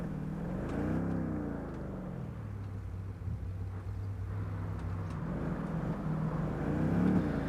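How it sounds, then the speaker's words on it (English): Muffled, low engine drone from a car in the Saints Row video game, with rising and falling revs as it drives, dull and filtered as if heard from inside the cabin. "we're hearing the muffled car audio"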